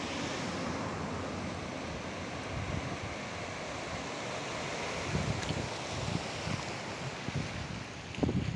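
Waves and wind on the Pacific Ocean at Real, Quezon, a steady broadband wash with gusty buffeting on the microphone and a few slightly louder surges near the end.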